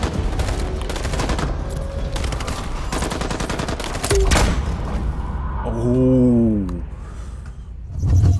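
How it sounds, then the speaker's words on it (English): Gunfire and combat noise from the video game Detroit: Become Human, a loud continuous barrage of shots and thuds with a swelling tonal rumble near the end. "Shoot him, Marcus?"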